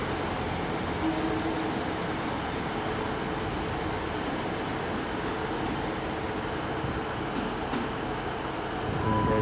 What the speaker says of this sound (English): We've got the 150-244 now leaving to go to Oakhampton.